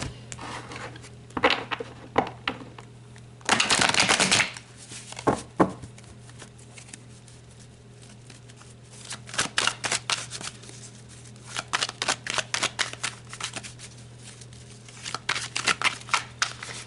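Tarot cards are shuffled by hand in close, crisp riffling bursts, one longer flurry near the start followed by scattered shorter ruffles and flicks, with no talk.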